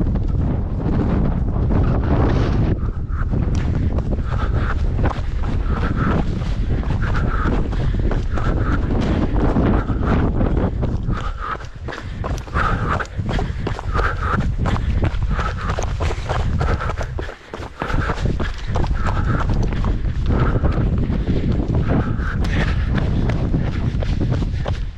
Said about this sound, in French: j'aime bien le Mistral. C'est un vent qui est caractéristique